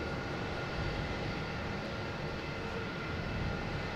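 A jet airliner taking off at Boston Logan Airport, heard as a continuous broad engine roar that holds steady and fills the whole stretch, distant and fairly quiet, with no talking.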